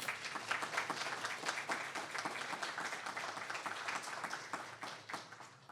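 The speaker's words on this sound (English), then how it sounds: "Join us for a round of applause." A crowd applauds the winner of the Moralia Scholarship Award at a ceremony, continuous dense clapping from many people, fairly distant and even throughout.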